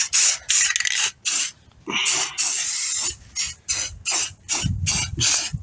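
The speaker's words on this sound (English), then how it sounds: "Just a couple sprays." Short aerosol bursts of coating sprayed onto a solar light casing, a rapid series of close, sharp hisses separated by brief gaps, with some handling noise between them.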